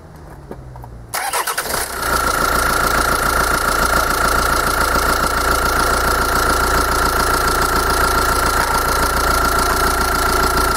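A common-rail diesel engine cranks briefly, catches, and settles into a loud, steady clattering idle that runs on close by without any voices.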